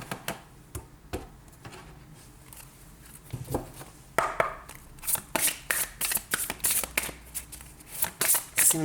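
Tarot cards are shuffled by hand for a reading, a soft, quick riffling and snapping that grows denser and more rhythmic over time. A faint voice talks in the background now and then.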